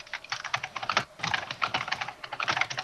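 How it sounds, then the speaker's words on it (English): Fast, continuous clatter of a computer keyboard being typed on rapidly, with dense irregular keystrokes and only brief pauses, heard close and alone with no talking. "someone's typing like a motherfucker"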